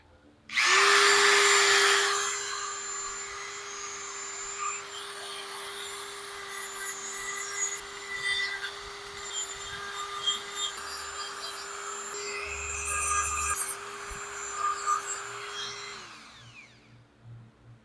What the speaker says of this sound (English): I'm going to take my Dremel and just address these edges.